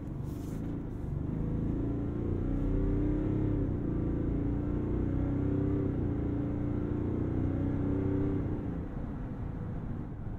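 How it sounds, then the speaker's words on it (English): A 2022 Cadillac Escalade's turbo diesel six-cylinder engine working hard during a wide turning test, a loud, steady, low rumbling drone with a brief rattle at the start. "And then you heard the turbo six at full tilt there."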